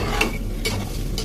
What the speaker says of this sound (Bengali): এখন পোলাও চালগুলি খুব সুন্দর করে ভেজে নেবো তেলের মধ্যে।